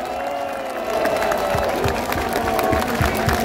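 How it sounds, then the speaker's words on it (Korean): Crowd at an outdoor campaign speech applauding for Kim Jong-in, a steady wash of clapping mixed with some cheering that holds throughout at moderate loudness. "우리 김종인 위원장님께 큰 박수 한번 보내주시면 좋겠습니다"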